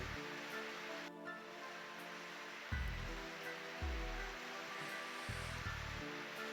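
Waves on a beach in the Never7 game, at a shore of hardened sand, wash in a constant broadband surf hiss, with soft tonal sounds layered beneath and no one speaking.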